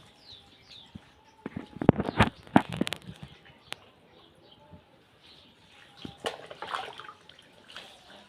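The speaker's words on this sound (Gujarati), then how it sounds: "હવે એમાં પાણી નાખીને એને વોશ કરી દઉં।" Water poured over a cow's feet during washing, several bursts of splashing and trickling in two clusters, close by, with birds cooing faintly in the background.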